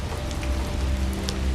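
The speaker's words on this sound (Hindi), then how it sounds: "घनी बारिश हो रही थी" Heavy rain pours in a dense, steady hiss, close and unbroken, with no other sound over it.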